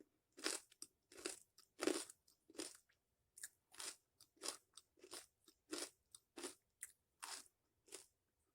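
Someone bites into and chews a crunchy cranberry food up close, giving about a dozen sharp, crisp crunches in an even rhythm with brief quiet gaps between them.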